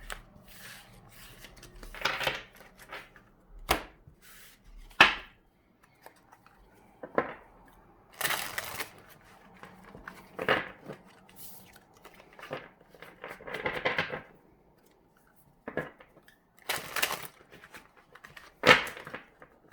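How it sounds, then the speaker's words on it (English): Soft irregular rustles and riffles of tarot cards being shuffled and handled, with small taps and flicks scattered throughout, close and quiet. "Let me get these ones shuffled."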